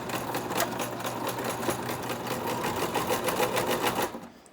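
A sewing machine stitches fleece and elastic for mittens, a steady, rapid mechanical whir of repeated needle strokes that runs evenly and close by for about four seconds, then stops abruptly.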